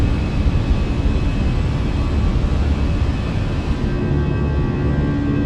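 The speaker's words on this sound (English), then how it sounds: "V1, rotate. Positive rate, gear up." Inside the cockpit of an American Airlines Airbus A319 climbing out after takeoff, a loud, steady broadband roar of engines and airflow fills the cabin without a break.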